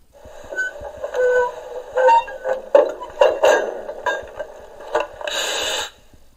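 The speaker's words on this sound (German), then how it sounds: "Und jetzt hören wir uns noch das Geräusch an beim Lösen der Kupplung." A servo-driven coupling on a 1:32 gauge 1 model V 160 diesel locomotive (class 216) releasing, heard as a series of short mechanical clicks and whirs followed by a brief hiss-like burst near the end.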